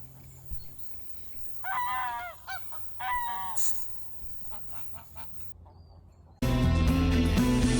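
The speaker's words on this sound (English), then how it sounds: "It's getting very noisy at this duck pond." Ducks and geese at a duck pond on the grounds of Belton House give several loud nearby honking bursts in short runs, with scattered quieter calls between, before a sudden blast of wind or handling noise ends it.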